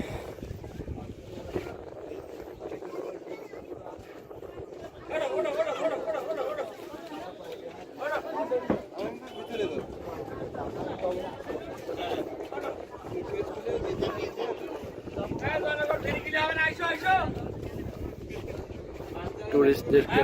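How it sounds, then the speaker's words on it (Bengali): Busy launch ghat at Koyra in the Sundarbans: a crowd chatters and calls amid boat engine rumble and gusty wind buffeting the microphone, a continuous outdoor riverside din with voices rising and falling throughout. "আমরা এখন লঞ্চ ঘাটে অবস্থান করছি।"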